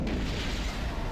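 A bomb blast in Star Wars: Knights of the Old Republic, a loud sustained boom with rumbling low end, heard close and alone.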